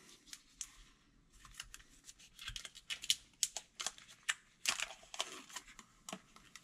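Plastic protective foil from a newly unboxed Nokia 3310 phone is handled close by, giving a run of sharp crinkles and rustles in irregular bursts, with no talking.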